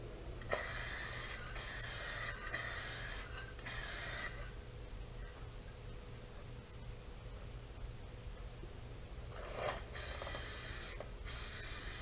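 Bursts of aerosol spray paint hiss from a can onto a Subaru Forester fender, several short sprays early on, a long silent gap, then two more sprays near the end, close and steady.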